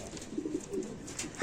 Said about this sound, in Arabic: اهو يا جماعه الحمام بتاعنا كده بعد ما نظفناه مكانه